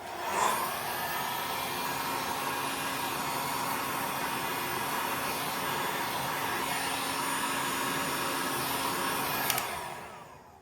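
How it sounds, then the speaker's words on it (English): A heat gun blows on a molten copper piece with a constant, loud, whooshing roar like a small fan motor. It runs evenly for about ten seconds before switching off and fading, with no voices. "I might just get the heat gun and just push that a bit"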